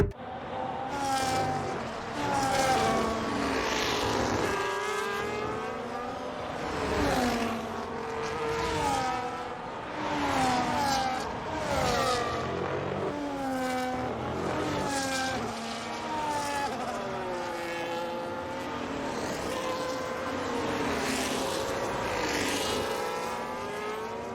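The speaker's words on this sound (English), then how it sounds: "As we move on to lap 4, we start to gain again on Norris" Formula 1 cars racing at Imola in the F1 25 video game, high engine whines rising and falling through gear changes in a continuous, fairly loud stream, with no one talking.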